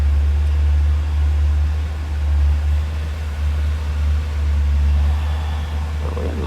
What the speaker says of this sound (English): as I'm sitting here with the car idling